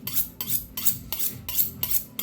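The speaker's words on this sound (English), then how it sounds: "let's go ahead and sharpen our knife here" A kitchen knife drawn repeatedly along a sharpener by a butcher, six evenly spaced bright scraping strokes close up, each a short metallic rasp with a soft ringing tail, with no voices.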